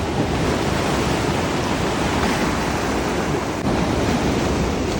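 Rough sea surf at Pohang on the South Korean coast, a loud continuous wash of breaking waves with steady broadband roar and gusting wind, no voices over it.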